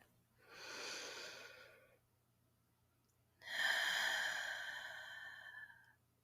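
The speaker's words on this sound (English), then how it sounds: "Close your eyes Take a deep breath." A slow, deep breath during a guided relaxation session, a long airy inhale followed by a pause and a longer exhale, close and calm with no talking.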